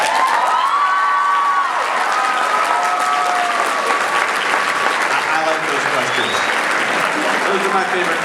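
Sustained audience applause from a crowd at a convention panel in Melbourne, loud and steady throughout, with scattered cheers and whoops and some voices mixed into the clapping.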